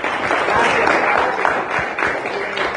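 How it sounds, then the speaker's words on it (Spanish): A church congregation applauds during a worship service, a loud, steady wash of clapping with a few voices mixed in, lasting a few seconds. "Vamos a aplaudir al Señor"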